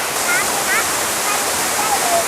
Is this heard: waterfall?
yes